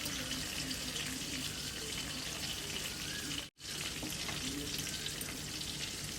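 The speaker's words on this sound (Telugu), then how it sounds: "ఇలా ఫ్రై చేసుకుంటే ఈవెన్గా వేగి చాలా టేస్ట్గా ఉంటుంది" Chicken tandoori leg pieces coated with corn flour masala paste fry in hot oil, a loud, steady close-up sizzle with a momentary break in the middle.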